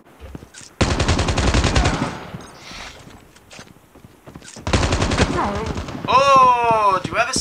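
Rapid automatic gunfire bursts loud and close in a Call of Duty Mobile free-for-all match, two long volleys separated by quieter footsteps, with a player talking and a whistling effect near the end.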